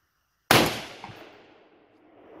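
A folding pump-action shotgun fires one loud, sharp blast at a shooting range, its report ringing out and decaying over about two seconds with no talking.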